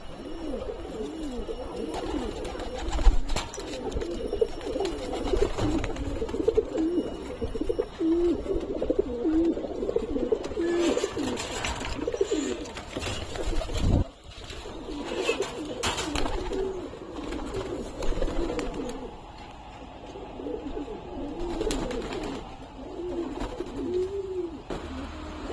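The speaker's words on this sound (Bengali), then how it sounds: "ডিমে আছে পায়রাটা" Domestic pigeons in a home loft coo steadily and softly throughout, overlapping throaty calls rolling on with faint rustling and small knocks in the background.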